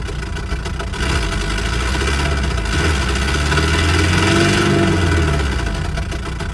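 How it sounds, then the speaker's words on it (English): A simulated GMC straight-six engine idles steadily in a synthesized engine model, a continuous low rumble with a slight swell in pitch around the middle before settling back. "we are greeted with the GMC's Trade 6 engine."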